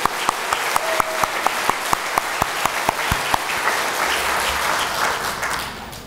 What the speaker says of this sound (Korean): 숨겨진 우리 일꾼들 선생님들에게 우리 큰 박수 한번 하겠습니다.